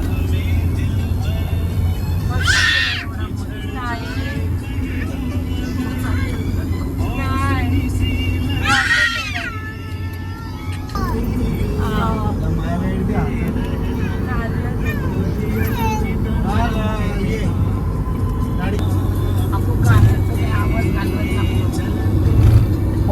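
Road noise from a car driving across the Atal Setu bridge, a steady low rumble and whoosh of traffic beneath almost constant conversation inside the vehicle.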